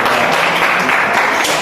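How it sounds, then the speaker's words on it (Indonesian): A classroom of students claps for a group after its presentation, loud continuous applause from a crowded room. "tepuk tangan dulu buat kelompok"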